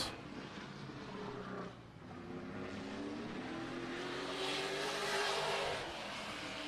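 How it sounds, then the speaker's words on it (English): The number 21 race car at Madera Speedway revs and accelerates in a continuous, loud engine roar, rising in pitch as it pulls out of the turn, with no voices. "Almost sounded like it may have spun the tires just a little bit on the exit of turn number 2"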